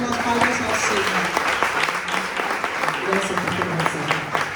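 Church congregation applauding for the Lord at a spiritual gathering, a sustained, fairly close round of many hands clapping with voices talking and calling out beneath it.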